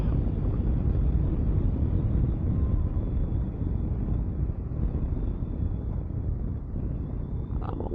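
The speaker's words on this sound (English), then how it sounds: "Getting a little windier out here today." Strong wind roars continuously over a rider's microphone on a Honda CB500X motorcycle ride, a dense, buffeting rush that masks everything else for the whole stretch.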